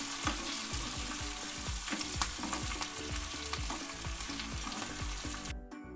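Sardines and eggs fry in a pan with a steady, close sizzle. Quick, rhythmic clinks and scrapes from stirring and turning sound throughout, and no one speaks.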